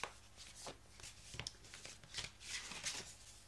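Oracle cards being drawn and shuffled from a deck, a close, quiet run of soft papery flicks and riffles spread across a few seconds, with no talk over it.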